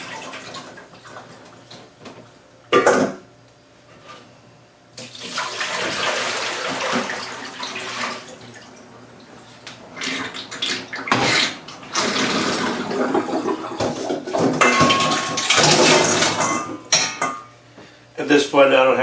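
Tap water runs steadily into a pot of cold water meant to chill boiled quail eggs, a broad splashing rush with a few louder knocks and bursts, nearby and continuous.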